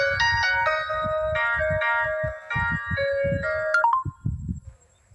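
A mobile phone's melodic ringtone plays during a classroom lecture, its bright tones chiming in quick succession before cutting off, while low mumbling voices continue underneath.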